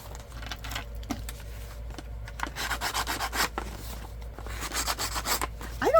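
A handheld distress tool scrapes and rubs along paper edges in repeated short strokes, soft and close, with some faint clinks near the end.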